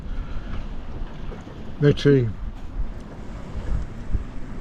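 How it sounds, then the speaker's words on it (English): Wind gusting over a sailboat at sea after the engine has died, a steady rushing buffet on the microphone throughout, with a brief spoken word in the middle. "fortunately we've got wind now"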